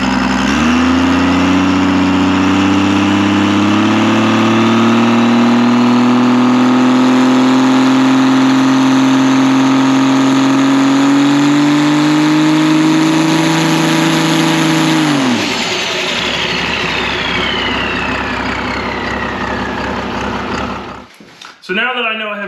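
A race car engine spools up on nitrous in a long, loud, steadily rising drone that holds for about fifteen seconds, then cuts off sharply and leaves only a fading whine and a faint rattle.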